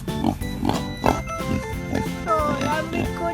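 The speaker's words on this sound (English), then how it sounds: "A grunt is made by a pig." A pig grunts close by in a quick, regular series of short snorting oinks, roughly twice a second, with a brief squeal-like rise near the end over faint background music.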